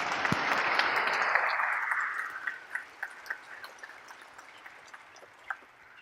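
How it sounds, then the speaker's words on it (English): An audience applauds after an evening Canada 150 talk on Sikh heritage, a full burst of clapping that fades within two seconds into a handful of sparse, isolated claps. "So big round of applause"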